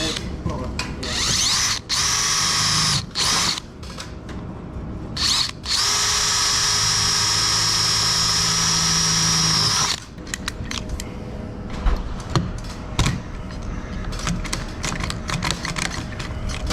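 A power drill with a 5mm bit bores into the metal body skin of a Peugeot Boxer van while a snorkel is fitted, whining in several short bursts and then in one long steady run, close and loud, with tool clicks between.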